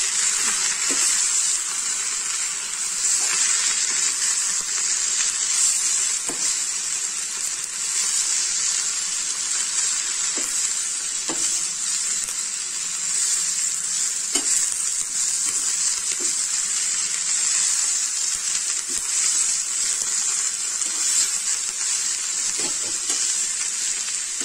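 Drumstick leaves sautéing in a pan for a ragi roti make a steady loud sizzle throughout, with occasional soft clicks of stirring scattered across the sizzle.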